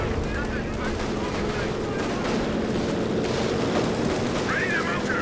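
Artillery and gunfire in Company of Heroes 2, a dense continuous rumble of booms and shots at steady loudness across the whole stretch, with battle effects layered on top.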